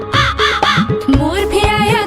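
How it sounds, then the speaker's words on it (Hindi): A crow caws repeatedly in loud, close, harsh calls, several in a quick uneven series with no talk over them. "कौवा भी आया"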